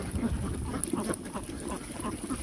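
Ducks quacking on a duck farm of about a thousand birds, scattered calls spread across a steady outdoor background, fairly quiet and mid-distance, no speech.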